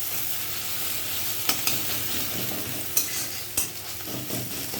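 An egg sizzles in oil in a wok while cooking a bottle gourd and egg recipe: constant crackling hiss up close, broken by three or four sharp spatula clicks and scrapes against the pan.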